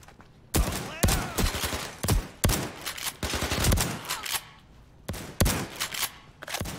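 Gunfire in the zombie shooter Overkill's The Walking Dead: several loud, sharp bursts of shots in quick clusters with short gaps between them, up close and without talk.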